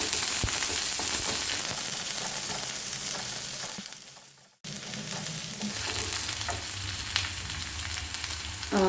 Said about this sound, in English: The oil is hot now. I'll add the onion slices. Saute for some while.